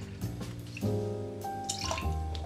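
Vodka poured into a Black Forest martini cocktail, a short liquid pour with dripping and splashing, close and fairly quiet, heard alone.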